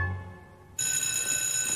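Telephones ring in a Christmas comedy film, a bright electronic trill that cuts in suddenly after a brief lower tone and continues loud and steady with no voices.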